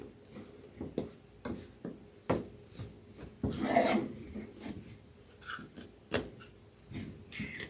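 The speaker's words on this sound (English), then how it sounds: "this was kind of glued around, and I am just unattaching this" Glued trim is pulled and peeled off a lampshade in a series of short, sharp tearing and scraping bursts, close and fairly quiet, with a longer rasping stretch midway.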